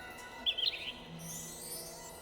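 A short burst of bright chirps from a bird in a video game, a few quick high notes clustered together, followed by quiet ambient tones.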